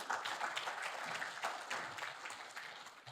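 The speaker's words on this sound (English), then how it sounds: "Please give yourselves a big round of applause for choosing to be here on this beautiful 80-degree day." Attendees at an Arab American Month lunchtime gathering applaud in a dense, continuous wash of clapping from a fair-sized crowd, steady and moderately distant.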